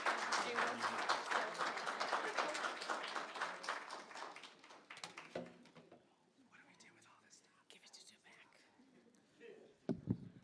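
Crowd applause from an audience at a summer institute demo day, dense clapping for about five seconds before thinning into scattered claps, murmurs and a few voices.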